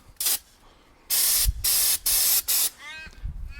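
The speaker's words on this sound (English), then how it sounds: "We're gonna do a little test spray and see how blowy it is." Short bursts of aerosol underbody protection coating hissing from a can onto a supercharged Toyota Hilux, one brief blast followed by a longer burst and two more sprays, close by, with quiet gaps between, outdoors in wind.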